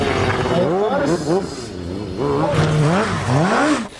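A MotoGP race motorcycle engine revs in repeated rising and falling whines, loud and close, with pitch sweeping up and down several times in quick succession.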